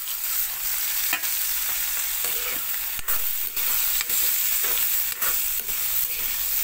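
Onion, chilli and tomato fry in a pan with half-cooked beans and potatoes, a constant hissing sizzle broken by repeated spoon scrapes and stirs at an uneven rhythm, with no voices.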